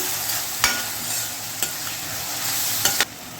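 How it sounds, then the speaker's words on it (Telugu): Onions fry in a pan with turmeric and salt for a prawn and egg curry: a steady close sizzling hiss broken by three or four sharp spatula knocks against the pan, with no voices. "పసుపు ఉప్పు వేసి వేయించుకుందాం"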